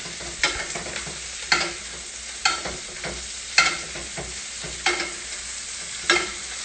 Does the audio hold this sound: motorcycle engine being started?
no